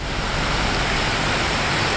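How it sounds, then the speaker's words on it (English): Small waterfall in the middle of a creek in a park, a steady broadband rush of falling water close by, continuous and loud for the whole stretch with no voices. "Ground zero is the little falls right there, right in the middle of the creek."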